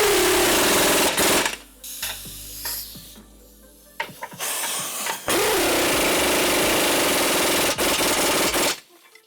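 Pneumatic impact gun hammering in bursts as it drives 19 mm bolts on a Honda CR-Z front strut assembly, loud and close, with broadband rattling bursts separated by short pauses.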